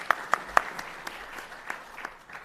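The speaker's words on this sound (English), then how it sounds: "Give Karen a round of applause." Applause from a conference panel audience for a speaker named Karen, with a few distinct nearby claps over a softer, more distant smattering of clapping, fairly quiet overall.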